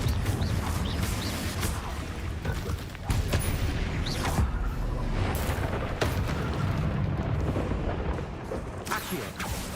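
Confringo spell blasts in the Hogwarts Legacy video game: a dense run of booming explosions and crackling impacts over a continuous rumbling game soundscape, loud and close throughout.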